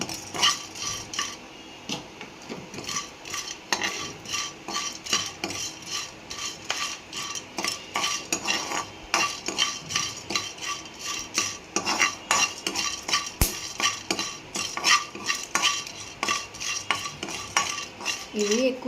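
Whole cinnamon, cloves and mustard seeds tossed in a hot dry pan for chicken pickle, with a spatula scraping and clinking against the metal in a steady, busy rhythm throughout; no voices.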